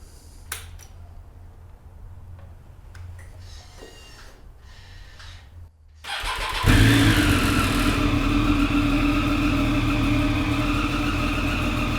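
A Triumph Daytona motorcycle sits quietly in a garage, then suddenly fires up into a loud, steady idle with a bright, raspy engine note that continues to the end.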